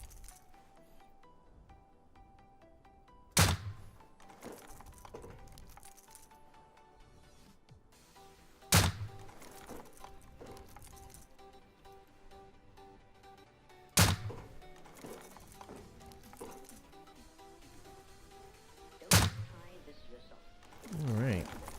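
A silenced M249 fires in the game Rust as four single sharp, muffled thumps, each spaced several seconds apart, while someone talks in between.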